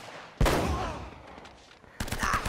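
Two loud gunshot bursts ring out in Uncharted: Drake's Fortune, the first a sharp blast with a long reverberant tail, the second a quick cluster of shots about a second and a half later.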